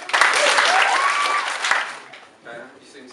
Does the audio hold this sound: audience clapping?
yes